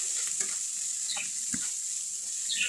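Ginger and garlic paste frying with onions for a chicken korma, a steady loud sizzle with scattered spoon scrapes and stirring clicks, no voices.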